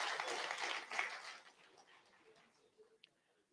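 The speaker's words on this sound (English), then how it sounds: "please give them a round of applause once more for the contribution they've made" Scattered applause from a conference audience at an energy expo, loudest at the start and fading to thin clapping within a couple of seconds, a few isolated claps at the end.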